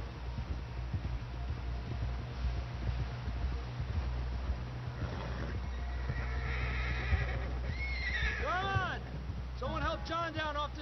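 Horse whinnies and clip-clopping hooves in the video game Red Dead Redemption 2, over low rumbling background, with rising-falling neighs near the end and speech around them.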